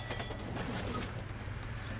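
A trolley train in the video game L.A. Noire rumbles along with a steady low mechanical drone and light rattling, continuous and fairly quiet throughout.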